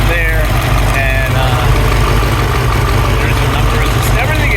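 A DeTomaso Longchamp's Cleveland 351 V8 with a K&N air filter idles steadily and close, a continuous low rumble with faint talk over it.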